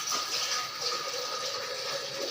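Water gushes from a bucket into a large pot of chana pulao, a loud, steady, close pour with a hollow, filling tone.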